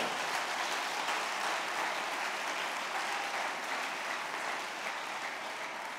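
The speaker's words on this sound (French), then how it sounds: "Est-ce que quelqu'un peut acclamer Jésus-Christ de Nazareth?" A church congregation applauds and cheers for Jesus Christ, a dense, steady roar of clapping and voices filling the hall throughout without letup.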